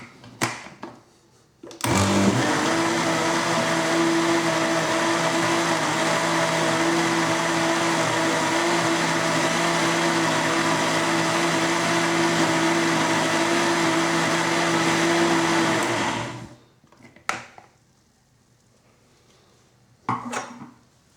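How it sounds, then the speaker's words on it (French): A kitchen blender whirs steadily for about fourteen seconds, puréeing pumpkin velouté soup with cream, loud and close, then cuts off abruptly, followed by a few soft clatters. "Un dernier tour de mixer."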